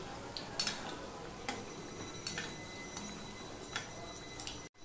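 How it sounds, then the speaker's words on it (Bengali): Tiffin snacks fry gently in hot oil over medium-low heat, a soft, steady sizzle with a few sharper crackles and light utensil taps near the pan. "এবার মিডিয়াম থেকে লোতে আমি ভাজবো, কেননা তাহলে ভিতরটা পর্যন্ত ভাজা হয়ে যাবে"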